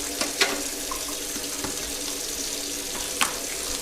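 A kitchen tap running super cold water into a container, a steady hiss of flowing water with a couple of small clinks, heard alone without talk.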